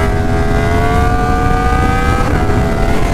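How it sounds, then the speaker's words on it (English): Yamaha FZ10 motorcycle fitted with an Akrapovic titanium link pipe and R1 header revving hard, a loud, steady engine roar with rising harmonic whine held throughout, close up and with no talk. "Oh, and it sounds so gnarly with this acropovic link pipe now."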